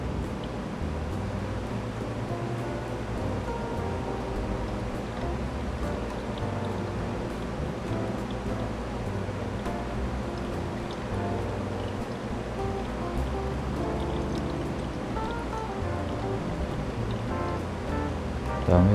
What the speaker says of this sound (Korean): 또 3차 물 붓기